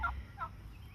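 A White Holland turkey hen on a homestead gobbles in two short, mid-pitched bursts, the second weaker than the first, over a low background rumble with no talk.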